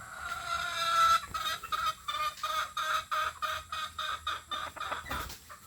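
A rooster with a cold gives a run of short, evenly spaced raspy clucks, close and fairly steady for several seconds after an opening call.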